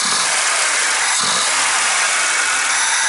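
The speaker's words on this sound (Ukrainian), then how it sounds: "Швидкий набір, різкий скид газу, все нормально, як має бути." Carburetor-repaired VAZ 2107 engine, its float cracked, held at a loud, steady high rev for about three seconds, a broad roaring noise that stays near and constant, with no voices.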